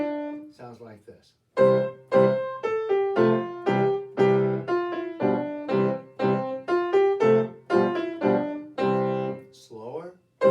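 Piano plays a steady left-hand accompaniment under a right-hand melody, a moderate series of clear notes after a brief opening phrase and short pause.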